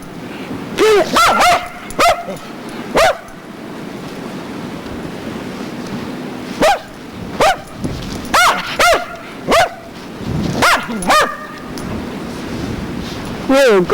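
A goofy dog barks playfully in deep snow during a huge snowstorm, loud sharp yips and barks coming in scattered bursts and quick pairs over steady wind-like rush, with a voice heard briefly.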